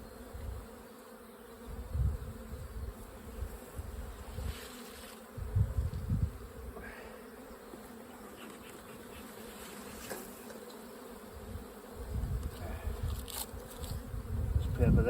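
Honey bees buzz densely around a hive feeder during a nucleus colony inspection, a steady swarming drone close by with louder surges as insects pass near, and no talking.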